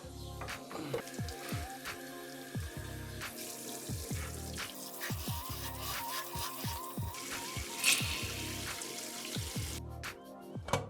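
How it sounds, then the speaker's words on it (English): Cold water is poured over a hot pressure cooker pot after cooking a lamb's head, giving a running, splashing stream like a tap with scattered drips and hisses, fairly quiet and continuous. "Pouring cold water over the pot."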